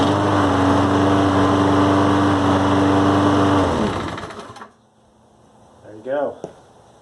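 A Toro Recycler 20331 walk-behind lawn mower with a freshly swapped carburetor runs loud and steady, then cuts out and falls silent, followed by a brief faint noise.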